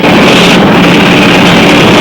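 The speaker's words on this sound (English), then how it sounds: "And the engines roar full throat." A loud, continuous roar of 1964 Mercury Comet race car engines at Daytona drones without pause, dense and close, motors running flat out.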